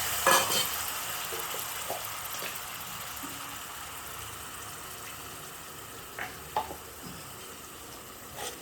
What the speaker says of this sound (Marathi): त्याला एक पाच मिनटं आपण तेल सुटेस आपण याला छान हलवून घेऊया